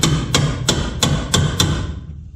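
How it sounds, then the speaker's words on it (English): Six sharp hammer blows land at an even pace about a third of a second apart, each a bright close crack with a short thud, during work on a Datsun pickup build, then the last strike fades out. "You see me swinging a hammer right at the camera"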